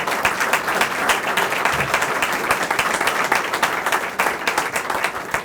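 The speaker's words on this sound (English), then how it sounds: "Give them a nice round of applause." Sustained audience applause fills a crowded annual meeting hall, dense and steady clapping at close range for several seconds without pause.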